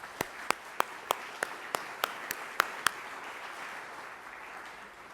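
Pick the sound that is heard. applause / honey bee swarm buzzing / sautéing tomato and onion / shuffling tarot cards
applause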